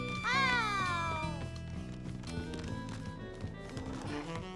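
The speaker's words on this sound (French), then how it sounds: "Bravo, tu es un bon chat de traîneau, Gilbert." A cartoon cat pulling a sled meows loudly, a rising then falling cry over steady background music that plays on throughout.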